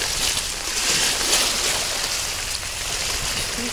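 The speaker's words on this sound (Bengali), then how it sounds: "এই যে ঢেউগুলো দেখুন যে কীরকম ঢেউ, অনেক বড় বড় ঢেউ কিন্তু" Big waves churn across Sylhet flood water in wind and heavy rain, a continuous rushing wash of water with steady broadband noise and no talk.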